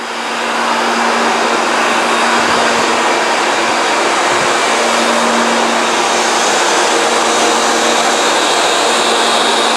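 A bandsaw cuts through ceiling insulation boards about 1.5 inches thick, giving a loud, steady whirring roar that rises at the start and holds nearly unchanged throughout, with no talking.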